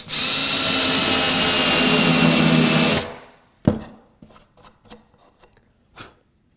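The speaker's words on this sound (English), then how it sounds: "So I'm going to use the countersink for this." A countersink bit driven by a power drill bores a tapered recess into a wooden part for a marshmallow catapult, a steady loud whir lasting about three seconds, then stopping and followed by a few scattered clicks and light knocks.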